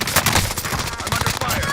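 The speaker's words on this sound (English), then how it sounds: "Taking direct fire!" Rapid gunfire in a video game crackles in a dense burst of sharp, loud shots, closely spaced and continuous across the short stretch.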